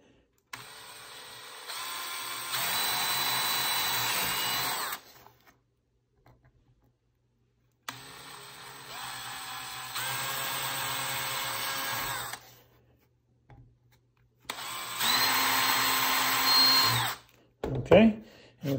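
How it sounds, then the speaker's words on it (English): A power drill boring holes at marked intersections in three long bursts of whirring, separated by pauses, loud and close, with a few faint clicks near the end. "I'm going to drill a hole at each of the intersections of there."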